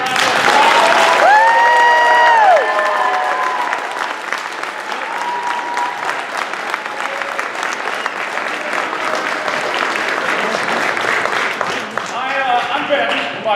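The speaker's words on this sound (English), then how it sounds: "they deserve another big giant round of applause" An audience applauds after a children's stage play of Androcles and the Lion, with dense, sustained clapping that fills the room throughout and a few cheers or whistles near the start.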